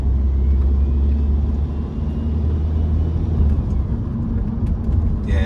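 BMW 1 Series car driving at 60 mph in third gear, its engine and road rumble a loud, steady low drone throughout with no break.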